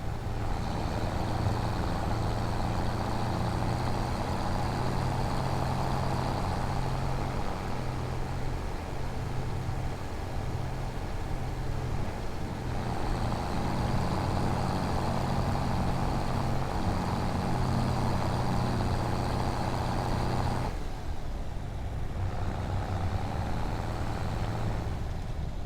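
A tractor engine in the video game Farming Simulator 25 drones steadily and loudly throughout, a constant rumbling hum with a brief dip in intensity near the end.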